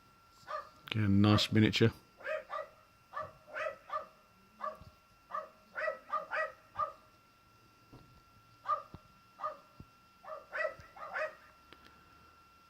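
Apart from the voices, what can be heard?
dogs barking next door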